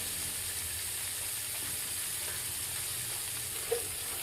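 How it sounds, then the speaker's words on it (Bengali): Cauliflower florets frying in hot white oil in a wok, giving a steady, close, even hiss of sizzling with no voices and only a tiny tap near the end. "কড়াইতে গরম তেল হয়ে গেলে ফুলকপিগুলোকে আস্তে আস্তে তেলের মধ্যে দিয়ে ভাজতে"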